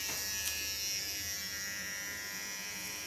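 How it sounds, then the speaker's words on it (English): An electric hair clipper buzzes steadily and close by, trimming the fine small hairs along a neckline during a haircut, with no talk over it. "Now only the ultra small hairs in the neckline I do with a clipper"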